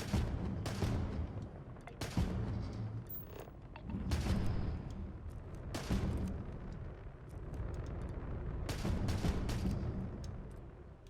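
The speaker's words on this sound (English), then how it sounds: "there we have the big gun firing its weapon." The Swordfish II spacecraft's big gun fires in a series of heavy booming bursts spaced a second or two apart, with rumbling between the blasts.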